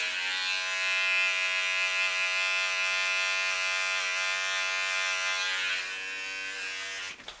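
Electric hair trimmer buzzing steadily at close range during a burst fade self-cut, a continuous whine that holds evenly for several seconds before cutting off near the end.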